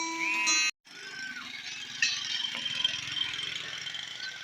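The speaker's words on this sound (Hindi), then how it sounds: "रेत की ट्राली जा रही है।" A tractor pulling a trolley loaded with sand drives past on a village road, its engine giving a steady, rattling mechanical drone at moderate distance after a brief gap of silence near the start.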